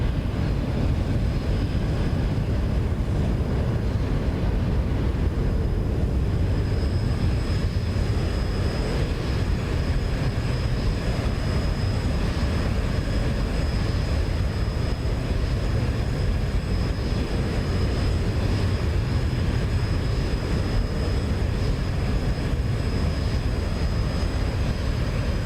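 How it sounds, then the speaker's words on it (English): An airliner's engines roar steadily from inside the cabin on approach to Manchester airport, a loud, constant broadband rumble with a thin high whine running through it. "By the sound of the engines, yeah, engines slowing down"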